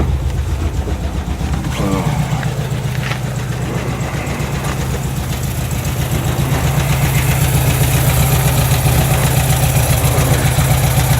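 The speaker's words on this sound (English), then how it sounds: "put the new carb on it, and now it runs absolutely sweet" A VW T2 camper van engine with a newly fitted carburettor idles steadily, a close, even low throb that holds a constant rhythm throughout with no voices.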